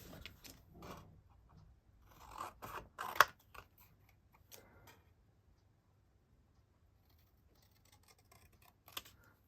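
Scissors snip through paper pieces for a journal page, a few close crisp cuts and rustles in the first half, then near silence with one last small snip.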